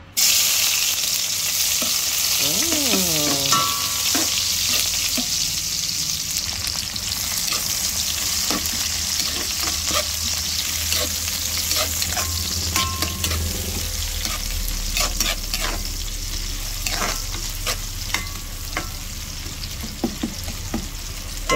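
Chopped onion sautéing in a hot pan as the base for Filipino sopas, a steady loud sizzle running throughout with occasional scrapes and clinks of a spatula stirring, no voices.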